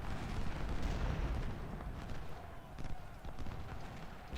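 A Civil War battle in the strategy game Ultimate General rages on as a dense, continuous roar of massed gunfire and artillery rumble, with sharper cracks rising now and then.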